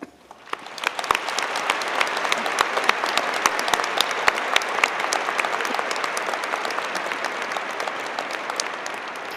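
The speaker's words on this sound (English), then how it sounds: "Please join me in giving a very vigorous round of applause and congratulations." Vigorous applause from a large crowd at a university commencement ceremony, a loud, sustained and dense wall of clapping with crisp individual claps popping out near the listener.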